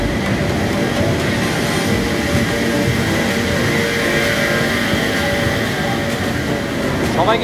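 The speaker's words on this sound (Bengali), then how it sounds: "আমাদের ট্রেন কিন্তু তার প্রথম স্টপেজ নিউ জলপাইগুড়িতে প্রবেশ করবে।" An express train rolls into New Jalpaiguri station with a loud, continuous rumble and a constant hum of carriages, and faint squeals rise near the end.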